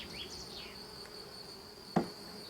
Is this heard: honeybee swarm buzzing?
yes